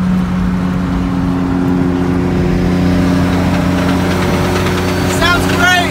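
A loud Cummins diesel engine fitted with a bigger turbo rumbles steadily nearby with a deep, constant drone, and a voice speaks briefly near the end.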